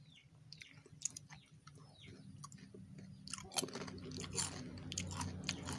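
Crunchy Simba Choco Chips Strawberry cereal being bitten and chewed close up, repeated crisp crunches growing louder and denser toward the end, with no talking.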